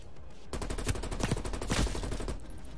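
A steady, loud stream of rapid automatic gunfire from a weapon with no recoil in Black Ops Cold War, starting abruptly and running continuously to the end, with no talk over it.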